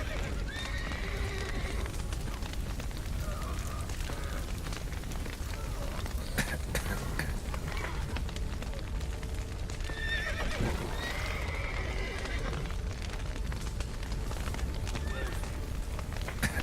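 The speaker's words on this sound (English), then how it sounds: "The horses!" Horses whinny repeatedly during a burning-building scene in The Witcher 3: Wild Hunt, shrill neighs rising over clip-clopping hooves, rain-like noise and crackling, with a man briefly calling out amid the commotion.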